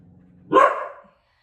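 A single sharp dog bark rings out close and loud after a brief low rumble, then cuts off into silence.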